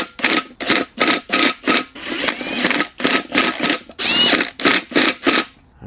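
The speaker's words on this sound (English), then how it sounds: "we'll run them back on with the impact at like a medium setting" Impact wrench at a medium setting running brake rotor bolts back onto a Suzuki Carry hub, loud and close in a quick series of rattling bursts with brief pauses between.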